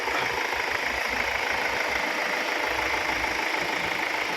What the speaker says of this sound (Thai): มาฟังเสียงเครื่องยนต์พร้อมกันนะครับ